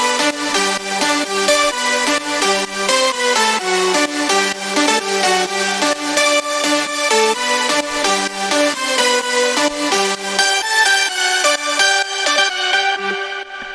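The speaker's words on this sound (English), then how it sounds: "they're very bright leads with a lot of different layers actually" A bright, layered progressive house synth lead plays a fast, rhythmic melody with dense harmonics, loud and continuous throughout.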